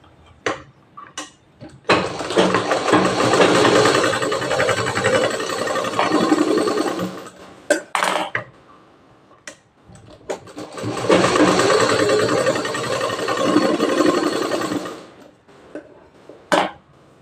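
A sewing machine stitches a tuck on a blouse in two long, loud, steady runs of rapid needle chatter, each lasting several seconds, separated by brief clicks and handling knocks.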